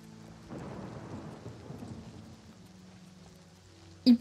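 Thunder and rain in the game Oblivion: a low rolling rumble swells and fades over steady soft rainfall, with a couple of sharp clicks at the very end.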